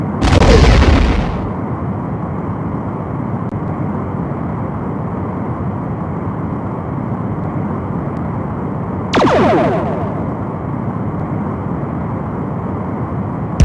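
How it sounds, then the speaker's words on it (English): Starship torpedoes fire at a decloaking Romulan warbird in the Star Trek: The Next Generation – A Final Unity game: a loud sustained roaring rush, punctuated by two sharp explosive bursts, one at the start and another about nine seconds later. "Locking weapons. Fire. Torpedo locked."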